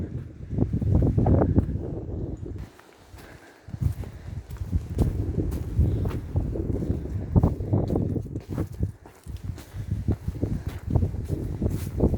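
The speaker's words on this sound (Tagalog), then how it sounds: "Sobrang mahangin." Strong wind buffets the microphone in a continuous roar with gusts among plum and apricot trees, and faint rustling and footsteps are mixed in.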